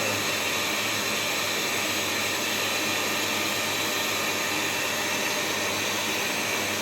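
Bissell SpotClean Mini carpet cleaner running, a steady loud whooshing motor and suction roar that holds even and unbroken throughout, close up with no other sounds.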